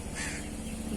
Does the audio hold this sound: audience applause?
no